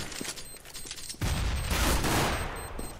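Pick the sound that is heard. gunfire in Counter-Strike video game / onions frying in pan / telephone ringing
gunfire in Counter-Strike video game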